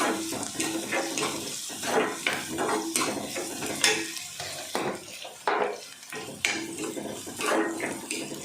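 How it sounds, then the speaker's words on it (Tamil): Curry leaves sautéing in a pan for a restaurant-style egg gravy, with a soft sizzle under busy, close metal scraping and clinking of a spoon against the pan in an uneven stirring rhythm; no talking. "அதில் வந்து கொஞ்சம் கருவேப்பிலை சேர்த்துக்கிறோங்க அதில் இது நல்லா வதங்கட்டும்"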